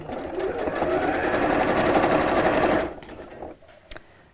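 A sewing machine drives a denim needle through thick fabric in a fast, steady mechanical whir for about three seconds. The whir then stops abruptly, and a few soft clicks and handling noises follow.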